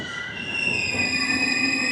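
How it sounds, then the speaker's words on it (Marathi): A train pulling into Jejuri railway station in Maharashtra, a steady rumbling roll with sustained high metallic wheel squeal and ringing tones throughout, close and continuous. "आपली ट्रेन येऊन पोचलेली आहे जेजुरीमध्ये."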